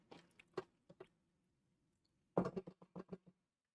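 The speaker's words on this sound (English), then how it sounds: "I'm absolutely munching on the apples every time I stir it." Quiet, close chewing of cooked apple being stirred in a pan for a maple syrup themed dish: a few soft squishy munches, a pause, then a denser run of wet bites.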